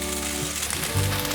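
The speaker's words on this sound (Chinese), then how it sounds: "现在放入豆干， 大略翻炒一下" Dried tofu is stir-fried in a pan, a steady close hiss of frying oil with faint crackles and a brief soft scrape of tossing, and no voices.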